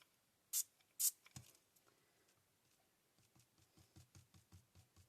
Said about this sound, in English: I'm just going to spray it on here.